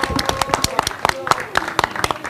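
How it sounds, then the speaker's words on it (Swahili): A crowd claps for a seafood food business in quick, rhythmic bursts, with sharp pulses close together under loud, continuous talking. "Naomba tuwapigie makofi mengi sana Seafood lovers"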